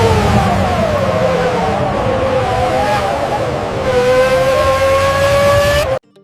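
Formula One race cars roaring past, loud high-pitched engine whine shifting in pitch as cars pass and accelerate, ending abruptly.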